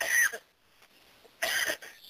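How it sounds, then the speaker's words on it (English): A man coughs twice, two short harsh bursts separated by a brief quiet pause, close and fairly loud. "I had to cough"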